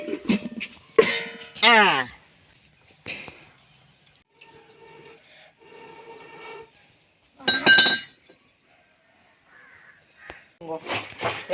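A lid clinks onto a cooking pot of fish curry (mangu fish kuzhambu) in a home kitchen. The metallic chink comes once, sharp and near, between stretches of talking.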